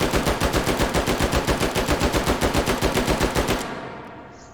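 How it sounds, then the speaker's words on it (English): G11 rifle in Hot Dogs, Horseshoes and Hand Grenades firing full auto: a loud, rapid, steady stream of gunshots for about three and a half seconds, then abruptly stopping with a short fading tail. "Full auto, gotta charge it of course."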